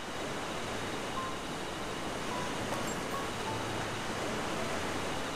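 Waterfall in the video game Kitaria Fables, a steady broadband rushing of falling water, constant and fairly soft with no pauses, no talking.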